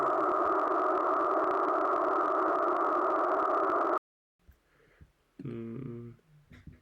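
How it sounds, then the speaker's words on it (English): A hyper-compressed reverb signal for an ambient djent/metal soundscape: a dense, steady wash of sound holds flat for about four seconds, then cuts off abruptly, followed by quieter murmuring and a brief voice. "We hyper compress a reverb signal."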